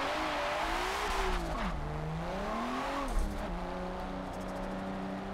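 Nissan S14 race car engine in the Forza video game, a steady loud drone whose pitch rises and dips with shifts and throttle changes, with faint tire noise mixed in.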